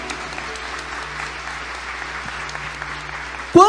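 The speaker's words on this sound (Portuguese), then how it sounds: "Pode aplaudir esse Deus maravilhoso." A church congregation claps steadily throughout, a dense broadband patter of many hands filling the space, with a louder burst right at the end.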